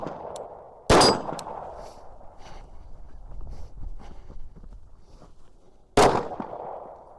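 Two sharp, loud Glock 19 pistol shots ring out about five seconds apart, each followed by a brief ringing echo, with quiet outdoor ambience between them.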